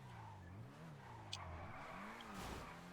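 An Annis RE-7B in GTA Online slides with the handbrake locked, its engine note wavering up and down under faint tire squeal, loud and continuous throughout.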